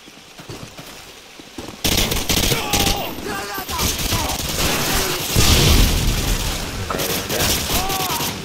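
M16 rifle fire and surrounding battle noise in Modern Warfare 2 (2009), bursts of loud shots and a dense crackling barrage breaking in suddenly after a quieter start, continuing with distant booms.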